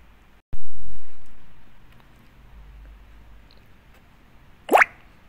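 Chopped onion drops into a pot for a one-pot soya chunks biryani, giving a single close, soft thud and then a quiet, fading hiss of frying. A short splash follows near the end.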